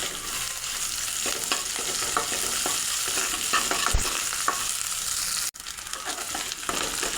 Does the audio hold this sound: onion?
yes